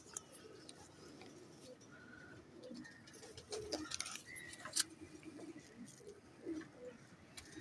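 Soft, distant cooing from salary teddy performance pigeons, interspersed with light chirps and scattered ticking clicks, mostly without speech and at low volume.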